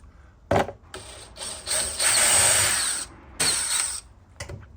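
Drill slowly boring a hole for a connector on a 2023+ Chevrolet LZO Duramax, several short whirring bursts with pauses between them, close and fairly loud.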